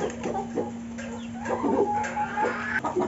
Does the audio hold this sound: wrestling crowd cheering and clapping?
no